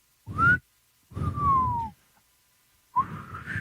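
Three short breathy whistles made by sucking air in, the middle one sliding downward, with airy noise underneath and pauses between, close up.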